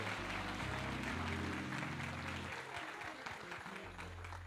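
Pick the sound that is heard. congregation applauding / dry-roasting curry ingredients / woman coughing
congregation applauding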